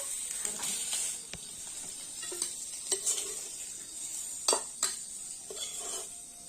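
Fish sizzling in a pan over high flame as pieces are lifted out, a soft continuous sizzle broken by sharp clinks and scrapes of utensil against the pan.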